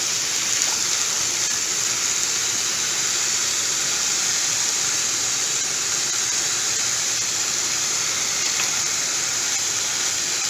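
Ham frying in a pan, a loud steady sizzle and hiss running unbroken with no talk over it.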